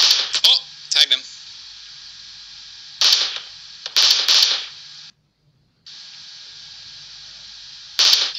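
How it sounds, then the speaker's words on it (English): Weapon fire in the battle royale shooter PUBG comes in short bursts and single cracks, spaced irregularly with quiet gaps between them, with a person talking in between. "He doesn't know I'm shooting him."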